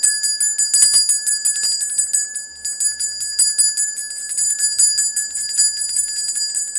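A bell icon notification effect rings as a bright, rapidly repeated metallic bell with sustained shimmering tones, loud and continuous for several seconds.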